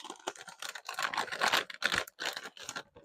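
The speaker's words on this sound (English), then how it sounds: "So let's open it up with a knife." A knife slitting a tightly sealed bag of dishwasher detergent pods, a close, crisp run of scratchy rustling and plastic crinkling in uneven bursts, with no talking.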